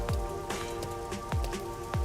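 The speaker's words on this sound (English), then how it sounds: "isn't it weird how it's not flooded, given how it's always raining here?" Steady rain falls in the video game Raincode, a dense hiss of drops on surfaces with a few heavier splashes standing out at regular intervals, alone without voices.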